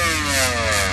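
A Pro class drag racing motorcycle on a sand drag strip revs loud and close, its harsh engine note climbing steadily through a brief burst.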